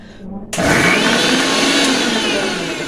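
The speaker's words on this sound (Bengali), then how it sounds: "এটা এখন মিক্সার মেশিনে মিক্স করা হবে" Mixer grinder blending marigold flowers to make abir colour powder, starting abruptly after half a second with a loud, steady whirring roar that holds to the end, preceded by brief quiet background noise.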